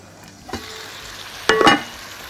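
Chicken with chickpeas in cream is stirred in a pan: a faint sizzle sits under two short bursts of scraping and clatter, the second louder and longer.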